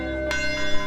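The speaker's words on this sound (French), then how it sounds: "la même cloche qui sonna ce certain dimanche matin il y a 71 ans, appelant les croyants à venir assister au service, sonne toujours fidèlement actuellement" A church bell rings once, a bright resonant strike with a sustained humming tone that carries on after the hit.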